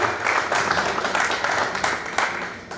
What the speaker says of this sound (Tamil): எங்கே உங்கள் பலத்த கரகோஷங்கள் என் chorus மக்களுக்கு.